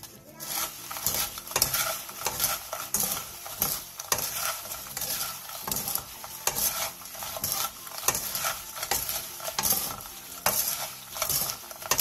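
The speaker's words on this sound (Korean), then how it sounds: "마지막으로 설탕 3스푼을 넣고 골고루 섞어주세요." Sugar being stirred into fried chili pepper chips (gochu bugak) in a pan, a continuous dry scraping and rustling with rhythmic crisp rattles and no voices.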